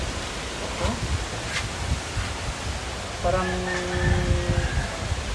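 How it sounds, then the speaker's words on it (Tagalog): A constant, loud roar of strong wind buffets the microphone, with a brief tonal sound partway through and a voice underneath. "Sobrang lakas guys, sobrang lakas ng hangin."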